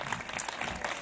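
An audience claps for a guest at a cabaret awards show in Italy, a dense, even burst of applause from a crowd filling the whole brief moment.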